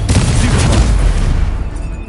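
A Confringo fire spell exploding in Hogwarts Legacy: a loud, booming blast with heavy low rumble and a crackling spray that fades over about two seconds.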